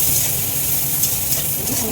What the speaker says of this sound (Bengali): পেঁয়াজটা একটু লাল করে ভেজে নেব।